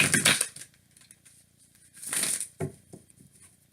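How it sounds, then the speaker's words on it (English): Tarot cards being shuffled by hand during a reading, two short riffling bursts of papery flutter separated by quiet gaps, followed by a few light taps and shuffles, close and soft. "One more shuffle and we'll cut the deck."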